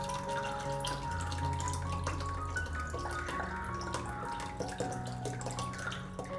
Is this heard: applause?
no